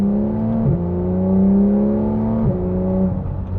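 Porsche 991 Carrera S sports car with its exhaust flaps open, holding a loud, steady engine note close by. Two quick dips in pitch break the drone before it climbs back up.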